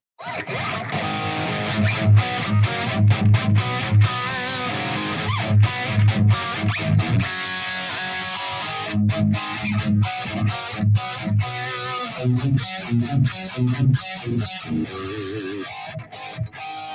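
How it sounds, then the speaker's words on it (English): Electric guitar played through the dirty channel of an IRJ amp with a boost engaged, giving distorted, choppy riffs and strummed chords with short pauses between phrases, loud and close. "that's the dirty channel on the IRJ. Now there's a boost on it"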